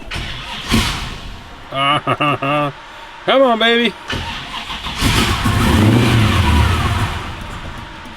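A carbureted car whose battery had gone dead starts up and revs. Someone speaks briefly over the first few seconds, then the engine catches and roars steadily, loud and close.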